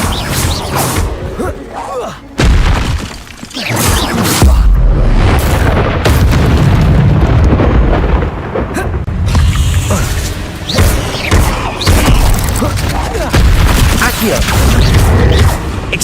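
Expelliarmus spell and spell combat in Hogwarts Legacy, with continuous loud booms, bursts and crashing impacts layered together and a sharp break near the start, while some voice comes and goes underneath.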